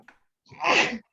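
A single sharp human sneeze with a short quick inhale just before it, close and loud, during an acting class.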